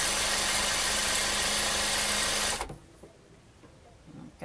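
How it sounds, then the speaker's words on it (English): A sewing machine stitches a chair quilt with a loud, steady, close whirring drone that runs for a few seconds and then stops abruptly, leaving quiet room tone. "And I'm sewing. I hope this isn't too noisy for you guys."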